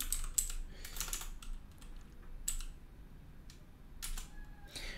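Someone types commands on a computer keyboard into a terminal on Ubuntu Linux. Quiet, sparse bursts of key clicks come with short pauses between them, and there is no talk.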